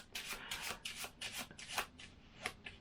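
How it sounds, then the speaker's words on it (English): Playing cards shuffled by hand in a magic routine, a quick series of about nine crisp riffling bursts in a steady rhythm, close and fairly quiet, with no talking. "And I can shuffle the cards like this,"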